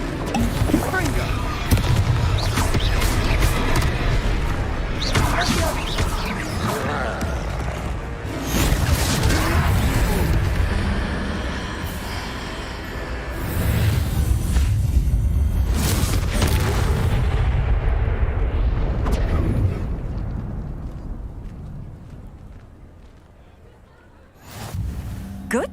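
Explosive blast of the Confringo fire spell in the Hogwarts Legacy video game during a troll fight, loud booming bursts repeating among dense game effects and music, with character voices talking over parts of it.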